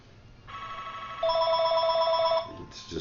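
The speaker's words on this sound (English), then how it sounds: "Let's just hope that the secretary picks up the phone there." A telephone ringing near a poker table, a bright electronic trill that starts after a half-second pause, grows louder for about a second, then stops abruptly, and is followed by a short burst of higher tone.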